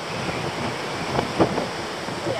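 Wind rushes across the microphone outdoors on an e-bike and hiking trip in Swaledale, a steady broadband roar with a few slightly stronger gusts and no speech.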